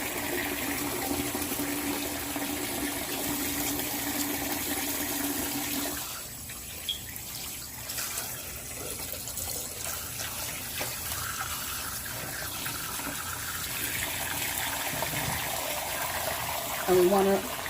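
A tap runs at a sink while hands are washed during a home dialysis routine. The water makes a steady rushing stream that dips briefly partway through, then picks up again and continues to the end.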